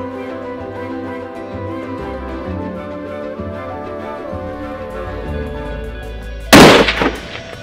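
A single rifle shot cracks loudly near the end during a Barbary sheep hunt in Spain, after a long stretch of steady low background noise, followed by a brief fading echo.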